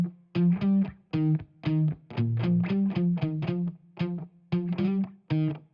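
Two electric guitars run through amp simulations with overdrive and compression, one amp paired with a Satch overdrive and the other a Mesa Boogie with a Fender compressor, playing a rhythmic pattern of short, punchy chords with brief gaps, upfront and alone.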